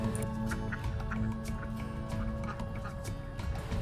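Backyard ducks quack in short repeated calls over constant noisy background hum and splashy dripping, fairly close and continuous across a few seconds.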